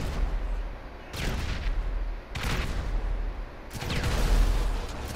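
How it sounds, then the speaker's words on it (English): Rear grenade launcher turret on a Barrage vehicle in GTA Online fires three booming blasts about a second apart, each a loud thump with a rumbling tail that fades before the next shot. "So this is basically just a grenade launcher."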